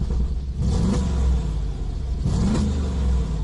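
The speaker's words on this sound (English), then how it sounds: "And that is comfort mode with the valves closed. Just have a listen to a couple of quick blips." A Mercedes-AMG G63 in comfort mode with its exhaust valves closed gives two quick throttle blips to about 3,000 RPM, each a deep, muffled surge over a steady idle rumble, close and without talk.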